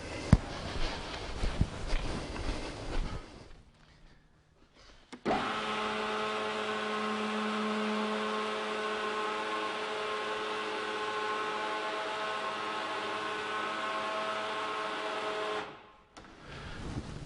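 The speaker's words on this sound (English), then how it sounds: "we'll just lift the car right up and we'll have a close look from underneath" A car lift raises a car in a workshop. A steady electric motor hum starts abruptly and runs evenly for about eleven seconds before cutting off, preceded by quieter handling noises.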